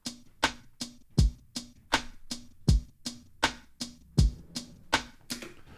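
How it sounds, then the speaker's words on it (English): A basic programmed drum beat with kick on beats one and three, snare on two and four, and hi-hats on the subdivisions, repeating at a steady even tempo and moderate level without any voices. "with the kick on the 1 and 3, and the snare on the 2 and 4, and then hi-hats on every other subdivision of the beat."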